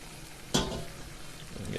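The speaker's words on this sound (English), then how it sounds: "add a little bit more cooking liquid here" Cooking liquid splashes into a pan of nameko and chicken of the woods mushroom noodles with tomato curry, a sudden pour followed by a steady sizzle and bubbling.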